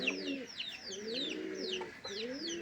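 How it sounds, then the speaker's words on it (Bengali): Pigeons coo at a flying loft, several overlapping soft rolling coos repeating close by. "এই হলো আমাদের ফ্লাইং লফট আজকে আমরা কবুতর উড়াবো"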